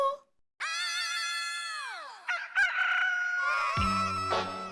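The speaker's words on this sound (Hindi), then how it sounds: "लगता है मुर्गा घर में घुस गया है" A rooster crows loudly and close, a long drawn-out call, followed by more crowing mixed with other bird-like noises.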